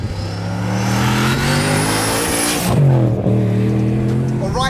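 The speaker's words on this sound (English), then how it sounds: "750 brake horsepower, Lexus LS400." A home-built 750 bhp Lexus LS400 drift car revving hard nearby, the engine note climbing and holding, then dropping sharply and rising again, with a thin tire squeal mixed in.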